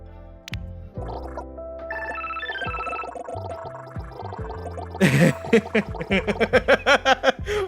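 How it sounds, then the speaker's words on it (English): Winston emote ringtone from the Overwatch 2 video game, a short playful electronic jingle with bouncy tones followed by a burst of rapid burbling, gargle-like pulses, moderately loud and alone. "Of course, they used the ringtone from the Winston emote."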